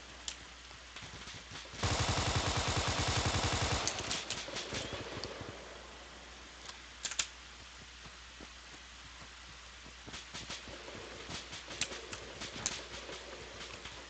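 A short burst of rapid automatic gunfire rattles for about two seconds during a simple firefight in an Arma-style military video game, followed by scattered distant shots and faint impacts.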